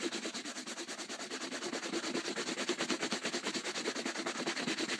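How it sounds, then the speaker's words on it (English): Leather LOWA Combat GTX boots are buffed with a cloth after treatment, a fast rhythmic back-and-forth rubbing that swishes about six times per second, close and steady, with no talking. "if I take my off, just give it a nice old buffing"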